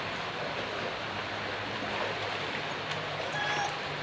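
River water flows in a steady, even rush of moderate loudness, with no voices over it.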